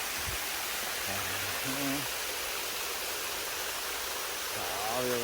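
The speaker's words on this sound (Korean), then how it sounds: "이게 완전 폭포." A mountain stream spills over a waterfall in a broad, steady roar of rushing water, loud and close, with a few short spoken words over it.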